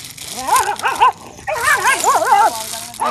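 A dog barks and yips in short, rising bursts at close range beside the Yamuna on the Haryana–Uttar Pradesh border, with two clusters of barking separated by a brief pause and faint background noise.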